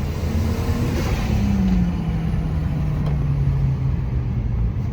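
A blue BA car accelerating hard during a full-throttle pull, its engine note climbing steadily in pitch as a loud, close, continuous roar with no talking.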